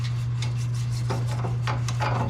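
A 1.5-inch plastic brush scrubs back and forth inside the differential axle housing of a 1966 Ford Mustang, giving rhythmic rasping strokes close up over a steady low hum.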